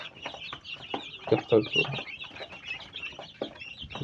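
Chicks and chickens clucking and cheeping nearby in a coop, a busy run of short clucks and peeps with a louder burst midway, while someone talks over them.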